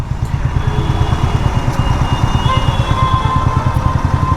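A Bajaj Pulsar NS200 BS6 motorcycle engine runs steadily at about 4000 rpm, a loud, close, even throb with a faint metallic rattle running through it, heard alone without talk.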